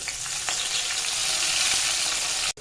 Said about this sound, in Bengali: কড়াইতে তেল গরম করতে দিয়ে দিয়েছি, দিয়ে দেবো কতগুলো গোটা রসুন আর শুকনো লঙ্কা, দিয়ে দেবো কিছুটা পরিমাণে কালো সর্ষে।